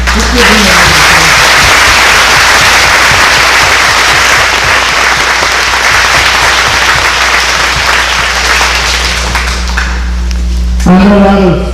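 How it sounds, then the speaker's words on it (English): A large audience at a Veterans Day tribute applauds steadily and loudly for standing veterans' wives and family members, a continuous wash of clapping with a low hum underneath and some voices near the end. "Let's give them a round of applause."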